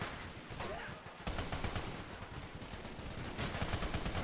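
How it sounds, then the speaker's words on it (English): Distant Bren gun machine-gun fire in the Totaler Krieg battle game, with a dense rattle of rapid shots and scattered battlefield gunfire, heard faintly at low volume. "One Bren gun up there. You see it, the muzzle flash."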